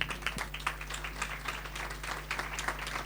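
Applause at a university honorary doctorate ceremony, with a modest audience clapping in a hall, some individual claps standing out from the rippling mass under a constant low electrical hum, fairly quiet overall.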